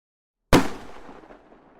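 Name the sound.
musket gunshot going off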